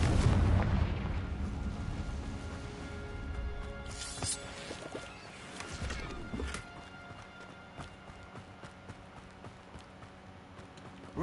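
The Confringo fire spell in Hogwarts Legacy goes off as a heavy, booming blast near the start and fades slowly, with several sharper cracks and impacts following over a low game ambience.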